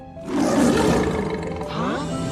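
A lion's roar from The Lion King (1994) animated film, one loud sustained bellow that rises and holds before trailing off, filling the brief moment with no talk.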